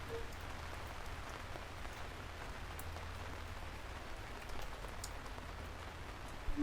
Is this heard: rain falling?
yes